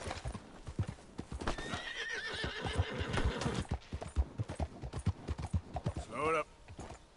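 A horse trots in Red Dead Redemption 2 with loud, close hoof clops in an uneven rhythm, letting out a clear whinny midway and another shorter neigh near the end, while someone talks over it.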